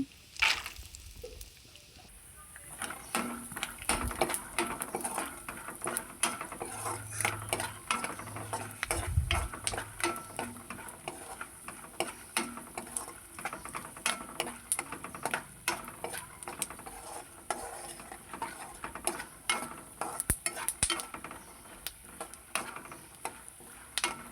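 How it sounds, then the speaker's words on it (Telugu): Peanuts roasting in a pan rattle and tick continuously as they are tossed, a dense busy clatter with light sizzle that carries on steadily without any talk. "అదే ప్యాన్లో పల్లీలు వేసుకొని వేయించుకోవాలి"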